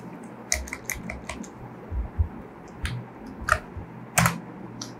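Keys on a computer keyboard are tapped close by in short, irregular bursts of quiet clicks with brief pauses between, while entering a value into a spreadsheet. No one speaks.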